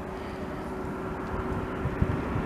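An airplane landing at Alta airport in Norway, heard from across the way as a steady, fairly loud engine roar with wind-like rumble.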